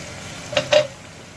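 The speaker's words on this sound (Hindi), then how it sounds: "ये डाल दूँगी इसमें लहसुन। तो फ्राई करेंगे" Garlic drops into hot oil previously used for frying pakoras, for a Punjabi kadhi tempering, giving two quick sizzling bursts with a stir against the pan before settling into a low background hiss.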